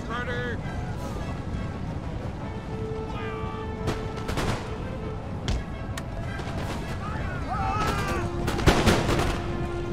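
Musket volleys in the strategy game Empire: Total War, with muffled crackling shots scattered over a constant battle rumble, loudest near the end, while a voice talks briefly.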